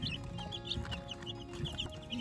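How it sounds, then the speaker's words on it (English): About two-week-old baby chicks, partly feathered, in a brooder: many small high chirps and peeps overlap in a busy, continuous flock chatter, near but soft. "that's what I've been feeding my baby chicks, and they're chirping and they're very happy behind me."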